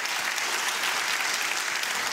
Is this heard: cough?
no